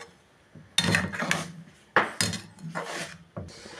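Boiled potatoes being stirred together with masala in a cooking pot, giving several loud scraping, knocking clatters of a utensil against the pot in irregular bursts, close by, with no talking.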